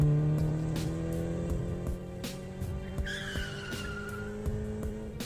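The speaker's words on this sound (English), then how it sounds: "And Alia drives the taxi at top speed." Tires skid and squeal on a taxi speeding at top speed, engine droning beneath a sharp rising screech midway through the short burst, heard fairly quiet and close.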